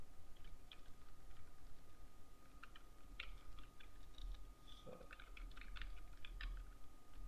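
Soft keystrokes on a computer keyboard as watermark text is entered in a PDF editor, scattered quiet taps in short bursts, close and faint with no talking.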